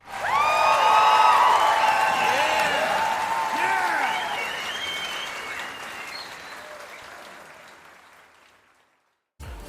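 Convention crowd at Digimon Con bursting into loud applause with cheers and whoops, the clapping peaking early and then slowly fading out over several seconds.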